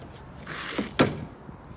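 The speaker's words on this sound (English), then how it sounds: "Door hardware on this, you notice that it didn't squeak when it's opened." The door of a 2021 Sure-Trac 8.5x16 ft enclosed cargo trailer with security hardware swings open with a brief swish, then a sharp metallic clack of the latch. No squeak follows.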